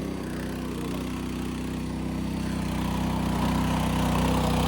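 A power tiller runs steadily in a paddy field being prepared for rice seedlings, a continuous mid-pitched engine drone that grows slightly louder as it loosens the wet soil.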